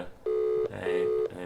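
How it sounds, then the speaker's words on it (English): Outgoing voice call ringback tone from a phone, two steady beeps with a short gap between them, clear and fairly close, with faint voices underneath. "it's ringing."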